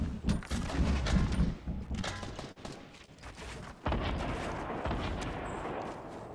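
Rapid gunfire and explosive booms from the Fortnite video game, dense overlapping volleys loud and continuous, with a brief lull in the middle before heavy firing resumes.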